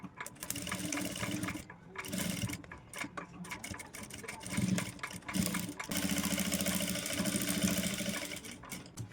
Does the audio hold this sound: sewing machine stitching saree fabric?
yes